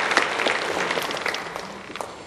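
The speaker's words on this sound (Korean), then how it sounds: "잠깐 우리 환영의 박수 한번" A church congregation applauding in welcome during a Sunday service: a short burst of scattered, moderately distant hand clapping that gradually thins out.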